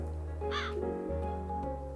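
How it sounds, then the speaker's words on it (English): A bird in the video game Calico gives a short cawing call over a steady, layered game music bed, one harsh squawk rising in the middle of the stretch. "Hey, a bird. Can we get the bird,"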